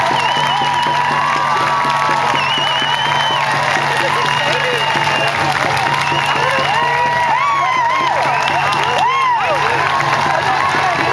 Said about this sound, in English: please give a big round of applause to Grand Chief Stewart Phillip